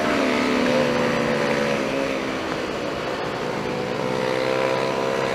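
A Yamaha MT-03 motorcycle runs with its exhaust tip removed, giving a loud, raw, continuous engine drone with a steady throb and rough rasp throughout, close to the listener and with no voices.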